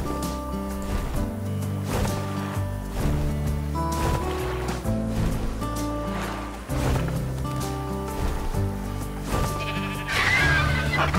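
A live sheep bleats repeatedly in the survival game ARK, layered over ongoing music and ambient game sound, several drawn-out calls spread across the stretch.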